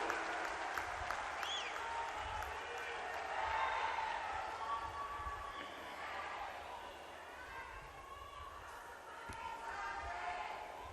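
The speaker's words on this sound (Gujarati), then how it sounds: "આવો આપણા સૌના આદરણીય પ્રધાનમંત્રી શ્રી નરેન્દ્રભાઈ મોદીને તાળીઓના હર્ષનાદ સાથે આવકારીએ" An audience at a development event at Sabar Dairy in Gujarat applauds to welcome Prime Minister Narendra Modi, with steady, dense clapping from a large crowd that holds for several seconds, and faint voices underneath.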